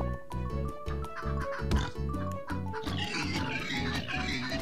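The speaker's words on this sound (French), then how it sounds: "Ah, il y a un cochon!" Cartoonish pig grunts and oinks from the video game Turnip Boy Commits Tax Evasion, several short calls over steady looping game music and effects, fairly loud throughout with no talking.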